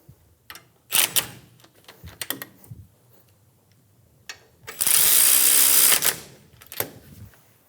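Ratchet snugging down brake caliper pins on a 2007-2017 Ford Expedition rear brake, with quick bursts of clicking and a longer loud rasping stretch in the middle, close up and with no talking.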